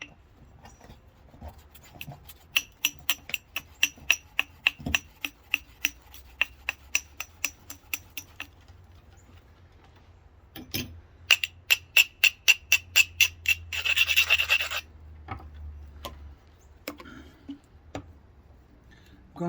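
A flint point is thinned at the base with a lightweight 1 1/4 inch percussion bopper. The sharp clicks come in a rapid, regular series, then pause, then come in a second burst, some ringing brighter, with quiet gaps between.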